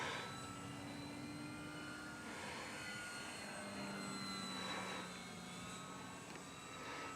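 A foam FT Master Series Corsair RC model airplane flies after a hand launch on its maiden flight, its electric motor and propeller giving a steady whine with a droning tone that holds through the whole stretch.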